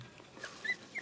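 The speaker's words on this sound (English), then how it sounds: "Baby dog." Puppy whimpering, a few faint high thin whines in quick succession, close but quiet, with no talk.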